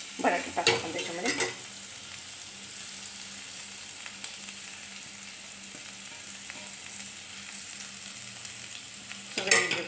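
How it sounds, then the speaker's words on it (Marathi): Potatoes and green chillies frying in hot oil give a steady soft sizzle, opening and closing with louder bursts of stirring and scraping in the pan. "हिरवी मिरची टाकली मी तेलामध्ये। आता बटाटे टाकू आपण त्याच्यामध्ये।"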